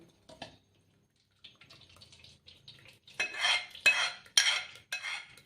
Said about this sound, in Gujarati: તો હવે આપણે આને આમાં ગાળી લેશું